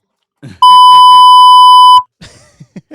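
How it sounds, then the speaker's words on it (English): A loud, steady censor bleep tone holds for over a second on a sports talk show about the Dallas Cowboys, with speech just before and after it. "Beep."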